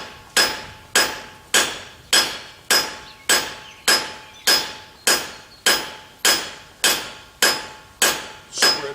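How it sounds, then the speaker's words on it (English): A cross peen hammer spreads hot steel on an anvil while a sign bracket for house numbers is forged. Around fifteen loud, bright, ringing blows fall close by in a steady, even rhythm. "take my cross peen hammer"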